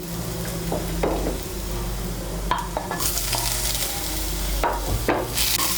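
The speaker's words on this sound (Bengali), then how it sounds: "টমেটো কুচিটাকে মিশিয়ে নেব। মিশিয়ে নিয়ে একটু ভেজে নেব।" Chopped tomato stirred into browned onions frying in oil, a steady sizzle under repeated scrapes and knocks of a spatula against the pan, close up with no talking.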